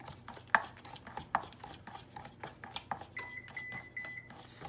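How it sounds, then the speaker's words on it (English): A kitchen oven beeps a run of short, high electronic tones to signal it has preheated, following a few light clinks and taps of kitchen utensils. "That's our oven saying that it's ready to go."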